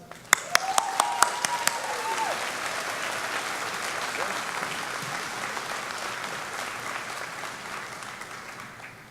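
Audience applause welcoming Dr. Orel Swenson, a physician at Bay Health Hospital, to the stage at an evening talk: a few sharp claps open into steady, sustained clapping from a room full of people that slowly thins toward the end.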